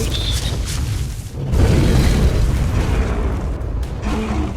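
Explosion striking creatures in ARK Survival Evolved, a deep booming blast that swells and rumbles for several seconds, loud and close, with no talk over it.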